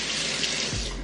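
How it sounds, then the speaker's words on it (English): A tap runs steadily as hands are washed under it, a close, continuous rush of water that lasts the whole short moment. "so I gotta wash my hands again"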